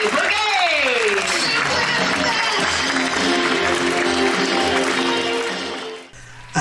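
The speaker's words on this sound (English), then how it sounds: "Round of applause, because they're heading straight back to the galley" Passengers on a cruise ship applaud the galley staff and executive chef, a loud sustained round of clapping over music that fades away near the end before a brief new sound.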